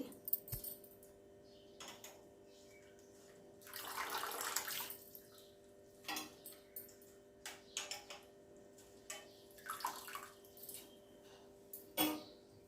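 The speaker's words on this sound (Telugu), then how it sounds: "నీళ్ళతోనే శుభ్రంగా రెండు మూడు సార్లు కడిగి" Gongura (sorrel) leaves are rinsed in water two or three times, giving faint, intermittent splashes and short sloshing bursts in a quiet kitchen, with no speech.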